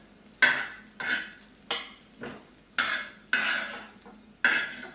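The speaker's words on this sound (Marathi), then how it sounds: "थोडंसं तेल टाकून घेऊया भाजायच्या पुरतं. फिरून घेऊया." Onions roasting in a little oil in a pan are stirred in short scraping strokes, about six distinct passes with a faint sizzle between them, close and clear with no talking, while making a goat mutton dish.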